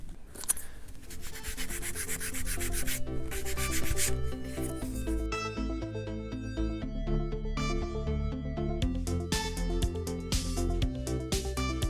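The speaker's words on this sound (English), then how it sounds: "I'm just going to kind of just sand them down flatter, if you will, and then come back and glue them on." Hand sanding balsa wood wing ribs flat for an RC plane kit: continuous close scratchy rubbing strokes in a steady back-and-forth rhythm, moderately loud and uninterrupted, with no voices.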